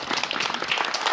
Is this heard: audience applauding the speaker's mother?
yes